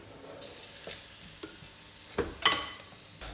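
Chickpea panisse waffle batter cooking in a waffle iron, a quiet steady sizzle and crackle of frying with a few soft clicks and scraping sounds, no voices.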